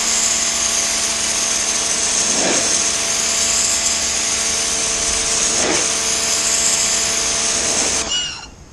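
A Sun Joe electric pressure washer runs loud and close, its wide-nozzle spray a steady roaring hiss over the motor's hum for about eight seconds before it cuts off.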